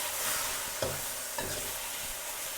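Pre-mixed sauce hitting a hot wok of chicken and spring onion stir-fry in oyster sauce, a continuous loud sizzle with two brief splashy bursts as liquid pours in, no talking.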